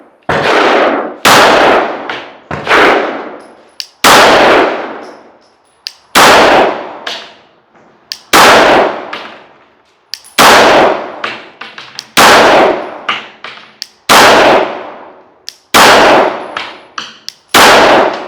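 A Glock 49 Gen 5 MOS pistol with a green-reticle red dot sight fires a full magazine of about fifteen rounds at a shooting range, each loud, sharp, close report ringing with a metallic clang and separated by short, steady pauses.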